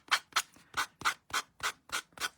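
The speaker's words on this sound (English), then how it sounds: "So I'm trying to be kind of careful with how much I'm sanding here." Sandpaper rubs paint off the edges of a Dollar Tree craft pumpkin in eight quick, evenly spaced scratchy strokes, close and clear with no talking.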